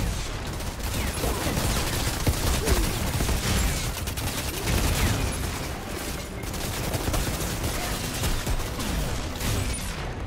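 Dense, continuous gunfire from the video game Outriders, with overlapping bursts and booming shots rolling on without pause for the full stretch, loud and close, with no talk over it.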